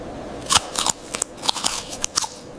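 Someone bites into a fresh, shiny farm apple, producing a series of crisp, sharp crunches with irregular spacing, close and fairly loud against a quiet background.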